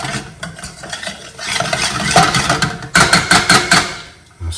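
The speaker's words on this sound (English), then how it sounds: "I'll stir that round" A spoon stirring baked bean curry in a pan, rhythmic scraping and clinking strokes up close, loud and uneven, with a soft simmer beneath and no speech.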